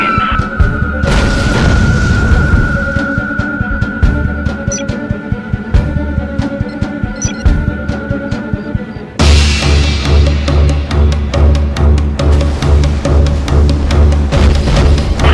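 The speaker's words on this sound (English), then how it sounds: "Moving in for airstrike. Commencing bomb run." Airstrike bomb run in a real-time strategy war game: a loud, continuous barrage of booming explosions with rapid repeated impacts, dense and close, shifting to a deeper pounding rhythm partway through.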